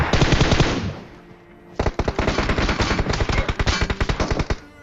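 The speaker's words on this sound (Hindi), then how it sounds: "पता नहीं कहाँ से फायर आया, अभी तक तो मुझे बंदा दिखा भी नहीं था।" PUBG gunfire played on an iPad: a loud automatic burst, a short lull, then sustained rapid-fire volleys of sharp cracks at close range that continue to the end, with no voices.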